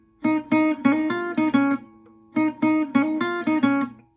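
Guitar riff from a song played at a quicker tempo, plucked notes ringing in two brisk phrases with a brief gap between, close and clean with no talking.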